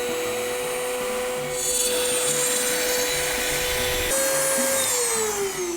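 An electric wood trimmer cuts a test groove for a guitar soundhole rosette, its steady high motor whine running throughout with a slight pitch shift as the bit engages the wood.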